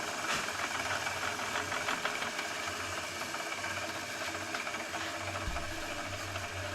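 A saw cuts wood to make wheels for a wooden toy, giving a continuous, steady mechanical buzz with rhythmic chatter, moderately loud and close, with no talking over it.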